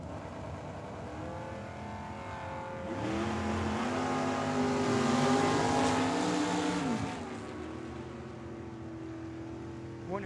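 Two drag racing cars, a 1998 Camaro and a 1989 Ford Mustang, roar on a dragstrip with engines revving near and loud, swelling into a harmonic full-throttle surge before dropping back to a burbling idle.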